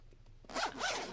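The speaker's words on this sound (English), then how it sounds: "It's got a nice zipper on it." A close metal zipper on a Nintendo Switch carry case is pulled open in two quick, rasping strokes after a brief quiet moment.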